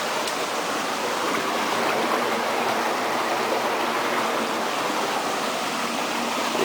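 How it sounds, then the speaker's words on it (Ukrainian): Steady rushing hot water from a factory flows continuously into a river, a dense, even roar with no pauses, close by. "гаряча вода сюди поступає і тече прямо в річку"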